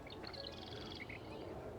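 A redwing calls from deep in bushes, giving a faint series of high, thin chirps and tweets over a steady outdoor background hiss.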